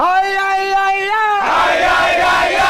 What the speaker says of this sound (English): Everybody's happy on the sideline cheering.